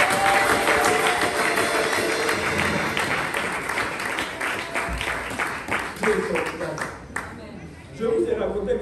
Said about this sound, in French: Applaudis le bon berger.